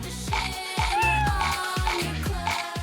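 A cat meows repeatedly and clearly during a doll house craft session, its drawn-out calls rising and falling close by over a steady rhythmic backing.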